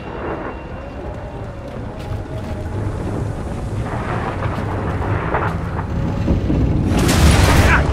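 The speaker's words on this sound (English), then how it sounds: "We don't know how long the storm will last." A thunderstorm in the video game Gears of War 4: a steady roar of wind and rumbling thunder builds in intensity, with a few sharper cracks toward the end and faint voices underneath.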